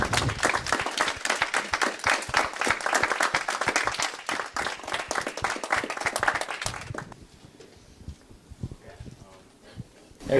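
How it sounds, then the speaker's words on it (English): Loud, dense applause from a crowd fills most of the clip, then cuts off abruptly, leaving faint room noise with some quiet voices. "let's give a nice round of applause for all of this team here"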